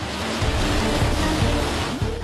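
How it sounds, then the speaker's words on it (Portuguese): A tsunami wave floods a street in Japan, a loud, continuous roar of rushing water with churning surges and low rumbling, with no voices present. "nesta imagem a onda invade a rua"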